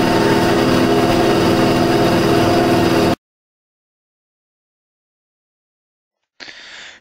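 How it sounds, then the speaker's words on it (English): A bandsaw in a workshop setting runs with a loud, steady mechanical hum and whir for about three seconds, then stops abruptly into silence before a brief, fainter burst of machine noise returns at the end. No voices are heard. "Now you're ready to turn on the bandsaw."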